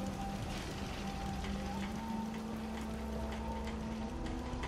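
Steady rain falling in the video game Fallout 4, a constant wash of hiss that stays even and unbroken from start to finish, with a low hum running beneath it.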